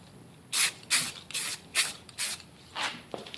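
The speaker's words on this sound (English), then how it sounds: "you can go ahead and spray these." Aerosol spray paint hisses onto AK rifle parts in about seven short, evenly spaced bursts, close and steady, with quiet pauses between each pass.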